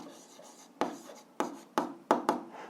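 Pen strokes scratch out short answers by hand, five distinct bursts of scribbling close up in a quiet room.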